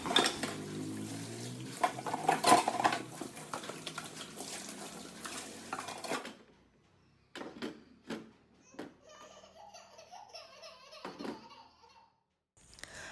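Dishes, pots and cutlery are being washed at a kitchen sink: a busy clatter and clink of metal and crockery for several seconds, then sparser scattered knocks and clinks.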